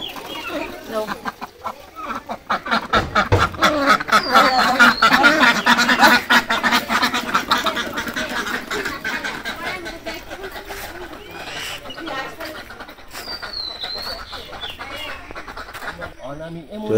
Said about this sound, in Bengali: এই যে হাঁস ছেড়ে দিলাম